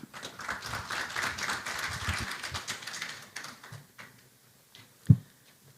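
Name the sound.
applause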